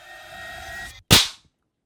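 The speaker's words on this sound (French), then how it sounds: "Je suis en train d'accrocher mes petits claques-doigts, mes petits pétards ficelles." String firecrackers, little snap pops hung in a row, go off together in one sharp, loud crack that decays quickly, following a brief stretch of low background hum.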